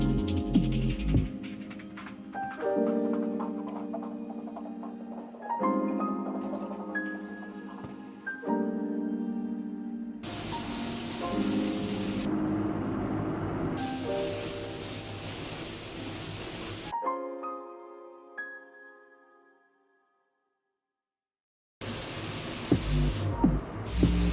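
Spray gun applying a white polyester sealer primer coat to an epoxy resin river lamp, loud steady hissing bursts in long stretches broken by short pauses and one silent gap, with some tonal sound at the start.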